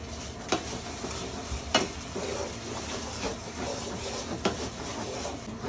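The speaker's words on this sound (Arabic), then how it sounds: "كده انا قلبت الصلصة بتاعتي اهي" A spoon stirs pizza tomato sauce with a little sugar in a pan: soft scraping strokes with a few sharper clinks against a low sizzling hiss, close and fairly quiet.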